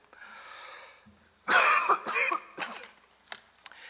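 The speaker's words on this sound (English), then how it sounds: "I inherited a cough last week, and I see it's deciding now to reappear at this timely moment." A person coughs several times in a short burst, harsh and close, after a faint breath; no speech.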